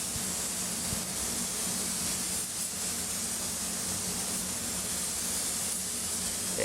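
A spray gun spraying paint for a blend on a vehicle guard hisses steadily and evenly throughout, a constant close airy spray with no pauses.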